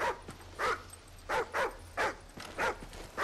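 A dog in the video game Call of Duty Ghosts gives a run of short, loud barks and yelps in uneven bursts, close and clear with no talking.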